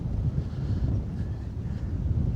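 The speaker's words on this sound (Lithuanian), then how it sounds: "Vėjukas biškį pučia." Steady wind in the Sahara buffets the microphone with a low rumbling roar throughout, no voices, constant and fairly loud.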